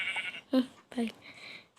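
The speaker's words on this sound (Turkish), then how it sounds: "Koyun." Sheep in the video game Minecraft bleating, a few short separate bleats in quick succession, with a voice talking alongside.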